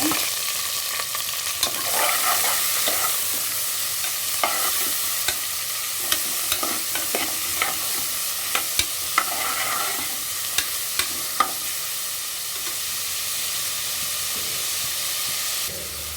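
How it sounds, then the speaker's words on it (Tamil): Small shallots and big onions sautéing in a pan, a steady close sizzle and hiss broken by repeated scraping and tapping strokes of a spoon stirring, the stirring thinning out toward the end, with no talking. "வெங்காயம் நல்லா வதங்கட்டும்."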